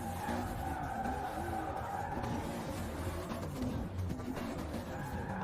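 Toyota Supra tuned to 1600 hp drifting in the racing game Forza Horizon 4, a steady loud roar of engine and skidding tires that runs unbroken for the whole stretch.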